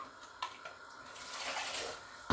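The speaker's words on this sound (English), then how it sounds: "all you do is pour in the stock." A litre of stock pours into a soup pot with a bay leaf, a soft splash and then a rising, rushing stream of liquid that swells toward the end, close and with no voices.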